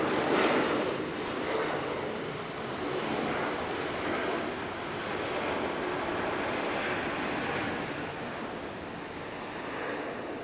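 A Southwest airliner arriving from New Orleans lands at Raleigh-Durham airport, a steady, moderately distant jet roar that swells briefly and then holds throughout.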